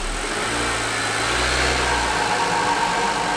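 A 10th-generation (2018+) Honda Accord engine fitted with an E85 flex fuel kit runs steadily at idle with a low rumbling hum, close and continuous, with no voices.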